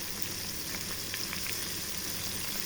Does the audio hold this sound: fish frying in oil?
yes